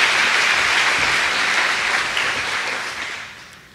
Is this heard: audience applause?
yes